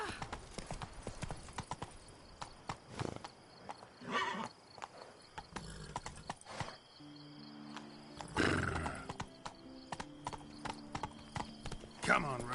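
The horse Roach gallops in a video game, with irregular bursts of hoofbeats, occasional neighs and snorts, and a voice speaking over parts of it.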